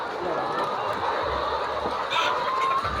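Hens cluck intermittently on a cage-free, free-range egg farm after laying, set against a steady, noisy background hum.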